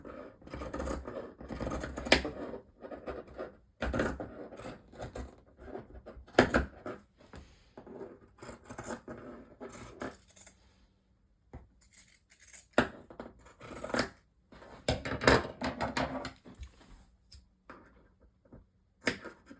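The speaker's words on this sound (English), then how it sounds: "clip all the way around as close as you can to your seam without cutting your stitching" Scissors snipping fabric seam allowance around the curved armhole of a sewn dress, a steady run of quick, crisp close-up clips at a soft level, with no one talking.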